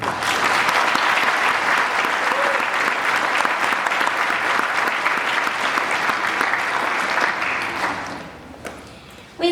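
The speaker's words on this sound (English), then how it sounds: "Please help me give a round of applause to Ms. Myers" Audience applause fills a middle school all-region band concert hall, a dense steady wash of many hands clapping for several seconds before thinning and fading out near the end.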